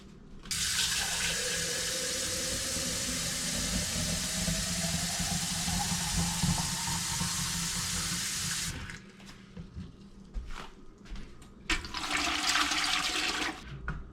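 Water gushes steadily from a tap into a pot for canning, a loud continuous rush for about nine seconds that shifts in pitch as the pot fills. Quieter clatter and a second short burst of running water follow.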